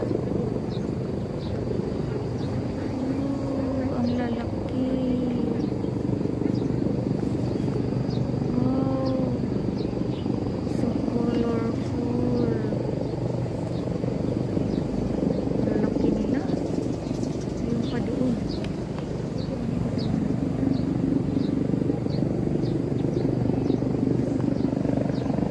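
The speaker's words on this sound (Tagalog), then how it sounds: "Nire-rescue ang helicopter sa Kowloon Peak." A rescue helicopter flies high over Kowloon Peak in Hong Kong, a steady droning rumble filling the whole stretch beneath occasional faint background voices and calls.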